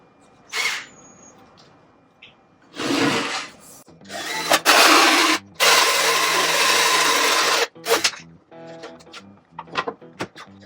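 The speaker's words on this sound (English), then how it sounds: "So what I'm just going to do is cut this and see if this hole cutter" Hole cutter boring through a van panel, splintering the far side: short bursts of whining power-tool cutting, then a long sustained grinding stretch, followed by scattered knocks and rattles.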